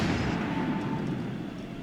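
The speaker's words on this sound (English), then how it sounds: "Even more stormtrooper cannons. No, this one's actually hitting the ship a couple times." Stormtrooper cannon fire from the Star Wars film A New Hope strikes a ship, a dense, continuous rumbling barrage of blasts and booms, loud and steady throughout with no talking over it.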